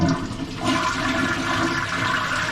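A Japanese toilet flushes with a loud, steady rush of water that surges after a brief start and keeps running, close by and with no talking.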